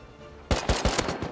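Video game gunfire near an underwater bunker and tugboat: after a quiet moment, five quick, sharp, loud shots ring out in a tight rhythmic burst, close and punchy.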